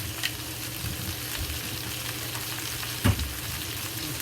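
Whole cumin seeds crackle and fry in a wok over a big fire, a steady broadband sizzle running throughout with a brief louder clatter near the end.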